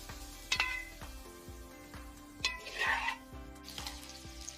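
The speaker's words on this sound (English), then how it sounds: "Now, fry the onions until golden brown." Onions fry in a pan for a chicken korma, a soft sizzle under repeated sharp clinks and scrapes of a utensil against the pan, with a brief burst of louder bubbling midway.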